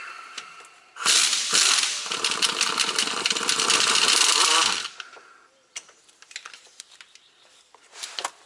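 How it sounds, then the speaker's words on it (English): An impact or power tool runs steadily on the bolts of a leaking differential on a 2020 Freightliner Cascadia truck, a loud dense burst of about four seconds followed by scattered metallic clicks and knocks in the shop. "And now I'm just going to be zipping the bolts out and putting these other bolts into place."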